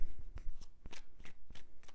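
Rapid riffle-shuffling of a Witches Tarot deck, several quick papery bursts in a steady rhythm, close and fairly loud with no talking.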